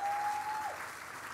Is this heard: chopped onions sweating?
no